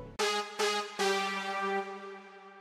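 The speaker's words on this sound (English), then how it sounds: "this brass from Nexus." Bright synth brass from Nexus in an FL Studio trap beat: three loud stabbed chords in quick succession, the last one held and slowly decaying, with no voice.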